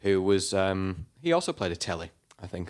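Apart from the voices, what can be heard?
None of the usual background noises is heard.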